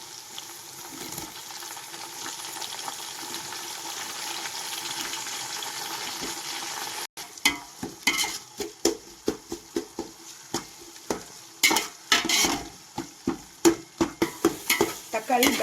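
Chopped onions and tomatoes fry and get stirred in a pan for dum biryani: a steady sizzle runs alone at first, then after a brief break gives way to repeated close scraping stirs and splashy bursts over continued frying.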